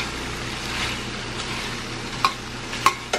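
Food frying in a pan, sausage and other pieces being kept separated: a steady close sizzle throughout, punctuated by a few sharp utensil clicks and scrapes against the pan toward the end.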